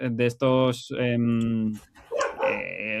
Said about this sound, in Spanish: mi perro está encantadísimo de opinar